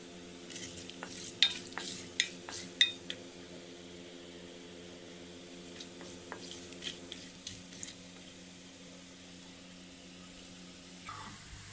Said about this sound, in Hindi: ऑयल गर्म होता है, ये मैं खड़े मसाले डाल दे